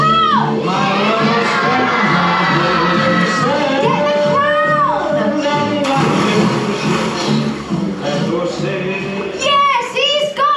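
A crowd of children shouts and cheers excitedly at a live Halloween stage show at Legoland, their high voices yelling together in loud bursts with whoops, close and lively throughout.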